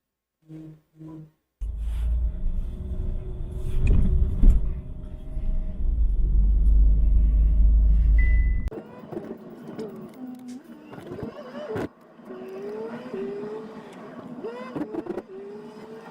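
Car driving on a road in Colombia, a heavy close engine rumble for several seconds that drops to quieter cabin road noise with passing traffic, clicks and faint voices.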